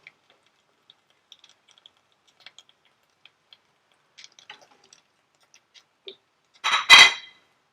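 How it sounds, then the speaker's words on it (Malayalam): Fried bread rolls are scooped out of a pan of oil, heard as sparse light metallic ticks and taps from the utensil, ending in a brief louder clatter against the pan. "ഇനി നമുക്ക് കോരിയെടുക്കാം."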